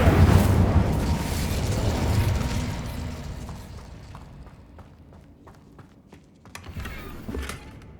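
An Incendio fire spell cast in the video game Hogwarts Legacy, a loud whooshing roar of flame that fades over a few seconds, followed by softer clicks and a brief flare near the end.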